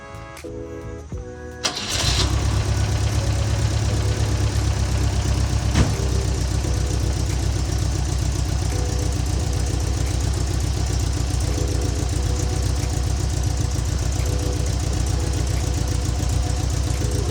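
A 1963 Volvo Amazon wagon engine cranks briefly, then catches and settles into a loud, steady idle close by, running evenly without a break.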